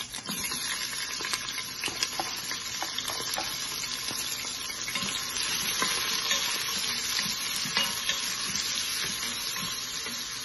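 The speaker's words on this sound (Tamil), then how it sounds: "வெங்காயம் நல்லா வதங்கி வரணுங்க" Chopped onions and green chillies sizzle and fry steadily with whole spices in a pan for vegetable biryani, with occasional stirring scrapes and clinks throughout, close and continuous with no voices.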